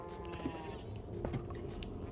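Sheep in the video game Minecraft bleat a few times, short wavering calls rising over a faint, steady background hum.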